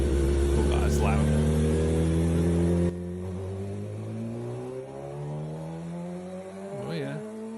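A race car engine revs loudly during a test, with a steady roaring drone and a brief blip near the end, while people talk over it.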